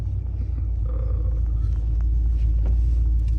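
Trucks rumbling together during a group ride, a continuous deep engine drone close by, with faint voices in the background.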